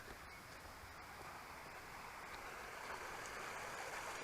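The River Bourne flows as a stream in Plaxtol near Winfield Mill, its water a steady, moderately close rush beneath a small bridge, continuous and unbroken with no talk.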